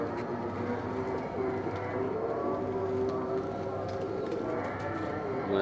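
A large, sturdily built black pigeon on a rooftop coos in soft, repeated calls under someone talking, with faint background noise.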